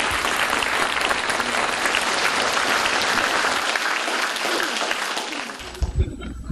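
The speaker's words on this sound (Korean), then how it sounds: "박수로 맞아주시죠." A lecture audience of university students applauds to welcome a POSCO chairman to the stage, dense clapping at an even level that fades as a few louder claps and the speaker's voice come in at the end.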